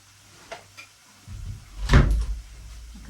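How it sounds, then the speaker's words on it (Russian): A door is shut in a home kitchen during cooking, a faint creak followed by a single solid closing thud near the middle, with light handling sounds before it and no talk. "Так, закрою дверь,"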